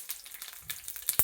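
Curry leaves and tempering seeds crackle faintly in hot oil for a moment, ending with one sharp pop.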